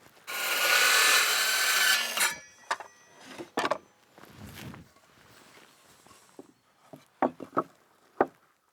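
A hand saw cuts wood at an angle for a bird nesting house with a burst of rasping strokes lasting about two seconds, followed by scattered knocks, shuffles and handling clatter, close and fairly quiet.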